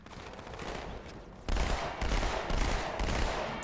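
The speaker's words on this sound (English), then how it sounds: "It's not the effective range of a submachine gun. I don't know why I was firing from that far away." A submachine gun in Halo 2: Anniversary fires rapid bursts, starting after a quieter moment and repeating about every half second, loud and close.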